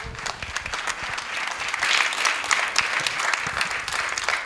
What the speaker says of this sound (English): I think we can really give a round of applause